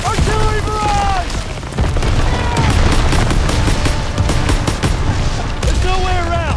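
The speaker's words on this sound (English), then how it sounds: "Artillery barrage!" An artillery barrage mixes with gunfire in the Call of Duty WW2 campaign. Heavy booms and rapid crackling shots pound continuously over several seconds, loud and close, while shouted voices ring out over the din.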